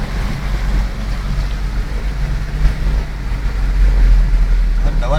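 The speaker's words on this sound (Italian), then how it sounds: "Guarda lo tsunami." Rough stormy sea off Koh Samui surges and crashes during a storm, with heavy wind buffeting the microphone and a rising wash of water toward the end.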